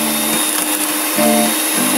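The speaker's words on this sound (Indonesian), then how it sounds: "Lalu kita mixer deh." An electric hand mixer whirs steadily while beating cake batter of eggs, sugar, ovalette and baking powder, a close, continuous motor hum with slight changes in pitch as the beaters move.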